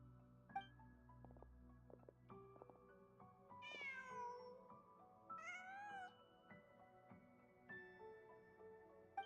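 A cat in the Genshin Impact video game gives two distinct meows, with quiet game music and ambient tones playing beneath them.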